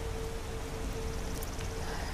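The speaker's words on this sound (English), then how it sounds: "Miserable rain." Rain in the video game Skyrim falls as a steady, even hiss with no distinct drops, fairly quiet and unbroken, with a faint constant hum beneath it and no talking.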